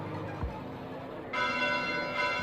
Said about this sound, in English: Bells? This late at night?